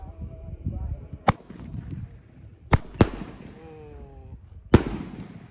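Jumbo Roman candle fireworks fire outdoors at night, two at once, giving several sharp loud pops spaced a second or more apart over a low rumble and background noise, with faint voices nearby.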